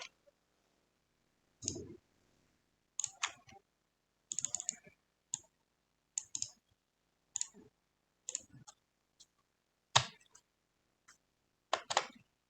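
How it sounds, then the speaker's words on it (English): Sparse bursts of clicks from typing on a computer keyboard come in short clusters separated by near silence. The keystrokes are close but quiet. "We are going to type this location."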